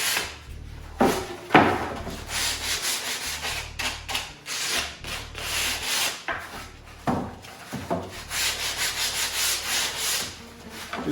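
Hand-sanding the sharp edge of a wooden shelf so it slides into a dado, with close, repeated rasping strokes in bursts and short pauses between them and no talking.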